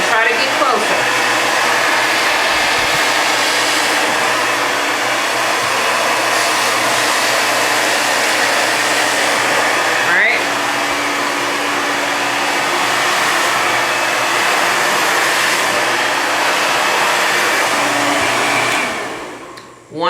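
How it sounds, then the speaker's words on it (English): A handheld blow dryer runs steadily close by as a brush works through hair from the root, a loud continuous broadband whoosh that cuts out near the end. "You want to follow the brush with the blow dryer, starting at the root."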